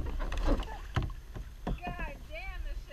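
Kayak paddling on Carter Lake, with close splashing paddle strokes and water sloshing against the hull, mixed with voices and bits of wind.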